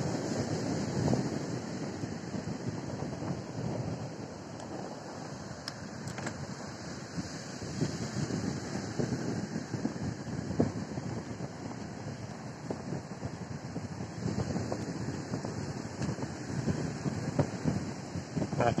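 Riding a bicycle along a beach, with wind buffeting the microphone and the broad wash of surf rolling underneath, a continuous roar that swells and eases without speech.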